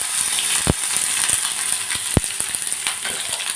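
Onions fry with mustard seeds and chana dal in hot oil, sizzling steadily with sharp crackles and pops now and then, close and fairly loud, with no voices.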